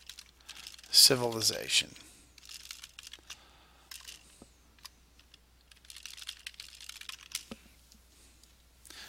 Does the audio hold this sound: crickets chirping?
no